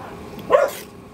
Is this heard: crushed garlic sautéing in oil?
no